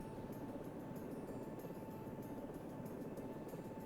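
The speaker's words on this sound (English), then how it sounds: "we have a helicopter without a tail rotor" A helicopter with no tail rotor flies in the Search and Rescue 4 video game, giving a steady, even rotor and engine drone with a faint rhythmic chop, heard alone at a low level.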